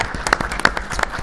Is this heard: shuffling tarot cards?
no